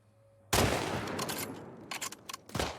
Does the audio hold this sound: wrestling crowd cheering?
no